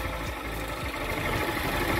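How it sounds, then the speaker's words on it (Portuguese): A small motorcycle engine idles steadily with its air filter removed, a close, even rumbling drone with slight vibration and no talk. "você liga a motinha, tira o filtro, tira tudo ali"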